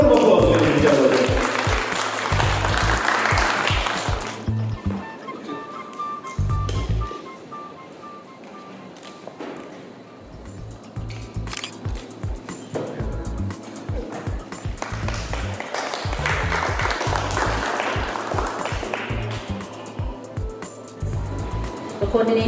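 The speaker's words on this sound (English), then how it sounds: "Give a round of applause, ladies and gentlemen" An audience claps at the Dialogue Fiji launch of the book Ethnic Relations in Fiji: Threats & Opportunities. Two broad bursts of applause are separated by a stretch of a voice speaking over a quieter room.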